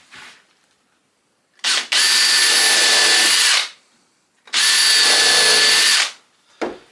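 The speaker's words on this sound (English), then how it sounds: "we will pilot and countersink at the same time using one of these bits" A power drill with a combined pilot and countersink bit bores screw holes in wood for a beehive mesh floor, in two loud sustained whirring bursts of about two seconds each, close up, with no talking.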